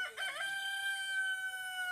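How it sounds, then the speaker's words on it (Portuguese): A rooster crows once on a rural smallholding. The call is fairly faint, a single drawn-out cock-a-doodle-doo heard alone against quiet background. "Sempre cantando o galo."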